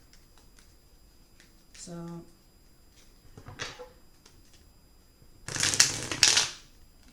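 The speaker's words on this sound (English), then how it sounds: "but I will shuffle them again to set the intention for you." Tarot cards being shuffled by hand, with a brief riffle near two seconds and a louder, longer burst of card flutter near the end, close and distinct; a few short soft rustles between, and a single spoken word.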